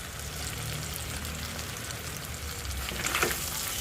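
Spices including turmeric, chilli powder and cumin sizzle and crackle steadily in hot oil for a hilsa fish curry, a continuous close frying hiss with a brief brighter burst of spatter toward the end.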